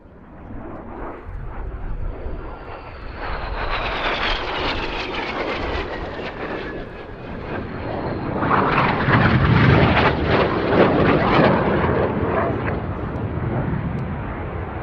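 Red Arrows jet aircraft pass at low level during an airshow display, a loud rushing roar swelling to a peak midway and sustaining as the jets fly by, with a faint whine at the start.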